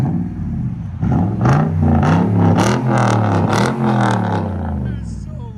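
A Toyota Tundra with a 5.7L V8 and aftermarket exhaust revs loud and close, engine pitch climbing and falling through several quick throttle blips over a steady idle rumble.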